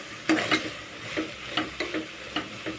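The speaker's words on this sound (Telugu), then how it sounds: "అడుగంటకుండా కలుపుతూ ఉండాలి" A spoon stirs tomato curry in a pot over the heat: soft scraping strokes and light clinks against the metal at an irregular pace, with a faint sizzle beneath and no voices.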